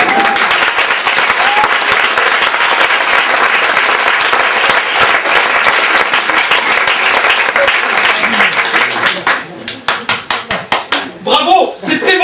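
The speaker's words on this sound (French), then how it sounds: "j'applaudissais la musique, pas les paroles" An audience applauds after a song, sustained dense clapping that thins into scattered individual claps near the end, with voices talking over it.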